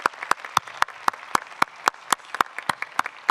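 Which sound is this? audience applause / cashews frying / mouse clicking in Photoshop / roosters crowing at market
audience applause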